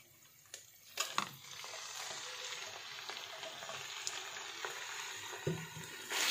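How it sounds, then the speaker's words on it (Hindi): Chicken sizzles with garlic and ginger-garlic paste in a pan, a soft steady frying hiss at moderate distance, punctuated by a few utensil knocks and clatters. "चिकन को फ्राई करेंगे"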